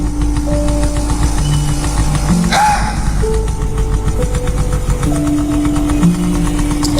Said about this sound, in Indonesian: Aku coba terus gas motorku.